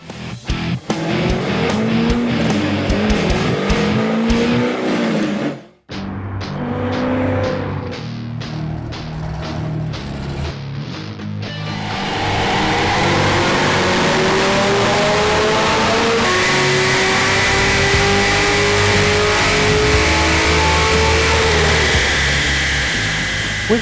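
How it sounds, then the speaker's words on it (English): A Chevrolet Corvette C6 Z06 with a strong, loud engine runs a baseline pull on a dyno. After a short burst it cuts off briefly, then winds up through the revs and holds a long, sustained high-rpm roar to the end. "First things first, strap that Z06 to the dyno and get some baseline numbers."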